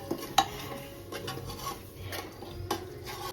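Curry leaves and spices being sautéed and stirred in a pan on a wood-fired stove, with scattered metallic scrapes and clinks of a spoon against the pan over a low, faint sizzle, no talk.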